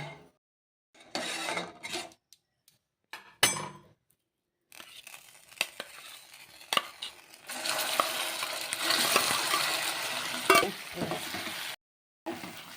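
Milk-soaked semolina being stirred into sugar syrup for rava halwa, giving scraping, sloshing stir sounds in bursts with short silent gaps, busier and louder toward the end.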